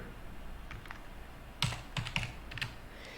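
Quiet, close computer keyboard typing comes in a short burst of distinct key taps, a few light presses first and then several sharper clicks, as a search prefix is entered into an inventory management system.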